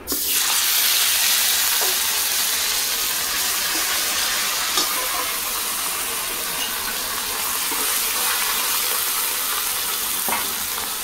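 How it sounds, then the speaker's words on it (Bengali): Ground spice paste for a Bengali fish kalia hits the oil left from frying fish and bursts into a loud hiss, which settles into a strong, steady sizzle with occasional faint stirring taps. "মাছ ভাজা তেলে বেটে রাখা মশলা দিয়ে দেবো।"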